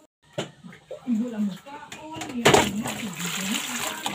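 Banana blossom being washed by hand in a basin of water, with splashing and sloshing throughout and a voice speaking over it.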